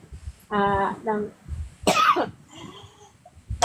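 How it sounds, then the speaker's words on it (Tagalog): Several loud, harsh coughs come in quick bursts at close range, one raspy and drawn out, separated by brief pauses and a bit of breathy throat noise. "Ang dami umuubo ngayon lately, ha?"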